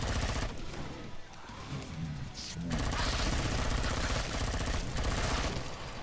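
Gunfire from a flare gun in the Killing Floor 2 video game, several loud shots over continuous game noise and music, with a voice talking in parts.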